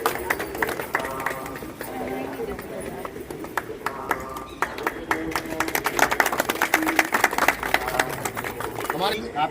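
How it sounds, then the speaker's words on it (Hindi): Crowd applause at a community hall function with a local MLA present, a steady patter of clapping that swells toward the end, mixed under ongoing speech over a public address. "मैं समझता हूँ तालियां तो बजती रहनी चाहिए।"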